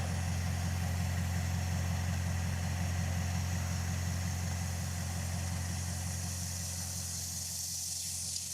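A Dodge Charger engine idles steadily after an idle speed adjustment, a continuous low rumble with an even pulse and hiss throughout, close and unbroken, with no talking.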